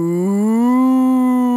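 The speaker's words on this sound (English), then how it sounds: "No, Bartolito, that's a cow." A single long, deep moo rises slightly and holds, loud and close, then cuts off.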